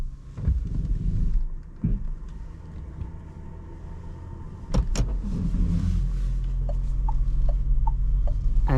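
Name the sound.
Renault Symbioz E-TECH Hybrid car starting and driving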